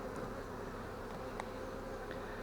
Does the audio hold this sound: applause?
no